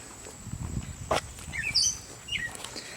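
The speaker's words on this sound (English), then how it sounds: "All you can hear is the birds" Birdsong on a quiet residential street near East Carolina University in Greenville, North Carolina: a few short chirps and whistles, moderately near, over soft footsteps and low outdoor rumble.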